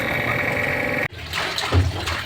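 A water pump motor hums steadily, cuts off abruptly, and then running water gushes and splashes nearby in uneven surges.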